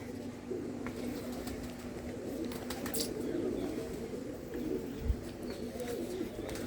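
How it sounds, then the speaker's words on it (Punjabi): Old-line red Cheena pigeons cooing inside the large nest boxes of a loft, giving soft, low, repeated burbling coos. They form a steady murmur against background hum and faint rustling, with no talking. "ਤੇ ਇਹ ਹੈ ਕਬੂਤਰ ਅੰਦਰ ਵੱਡੇ ਖੁੱਡਿਆਂ ਦੇ ਵਿੱਚ ਬਾਈ ਹੁਣਾਂ ਨੇ ਛੱਡੇ ਹੋਏ ਆ"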